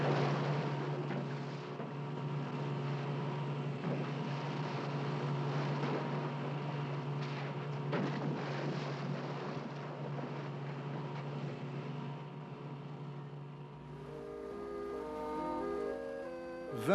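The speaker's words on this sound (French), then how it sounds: "Les bruits de moteur interfèrent avec le sens de l'orientation de Clyde." A steady motorboat engine drones throughout near the water, a continuous low hum that changes briefly toward the end.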